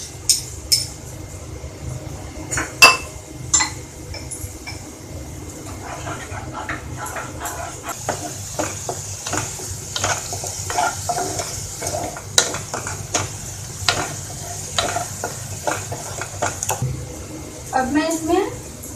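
Tomato puree goes into a pan of dal and gets stirred, giving a steady low sizzle with scraping and occasional clinks of a spoon against the pot, close and continuous with no talking.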